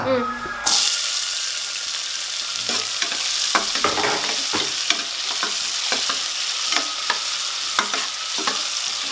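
Onions sautéing in a pan for vegetable salna, a loud sizzle that flares up as they go in, followed by repeated clattering strokes of a spoon stirring them close by. Quiet voices are heard in the background.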